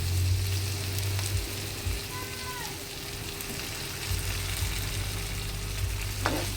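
Mung bean dish with sotanghon noodles and dried shrimp simmering in a wok, a steady bubbling sizzle close by with a low hum and a brief clink near the end.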